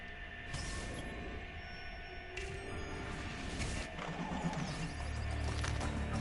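A horse in the video game Assassin's Creed Brotherhood lets out whinnies over a bed of hoofbeats and ambient game noise, steady and moderately loud across the stretch.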